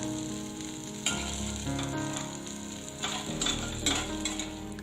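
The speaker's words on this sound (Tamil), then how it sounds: "கத்திரிக்காவை மிதமான சூட்லயே வச்சுட்டு இந்த அளவுக்கு நல்லா வதக்கி எடுக்கணும்" Brinjal sautéing in a pan on medium heat, a steady close sizzle and crackle with occasional scraping stirs, continuous and alone with no talking.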